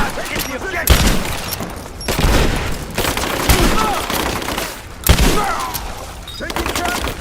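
A video game firefight in Rise of the Tomb Raider brings loud, rapid bursts of gunfire and heavy impacts, repeating in dense waves with short lulls between them.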